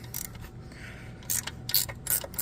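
A ratchet wrench works a bolt loose at the back of the foot on a 2003 Mercury 200 hp EFI two-stroke outboard, giving several close, sharp bursts of metallic clicking separated by brief pauses.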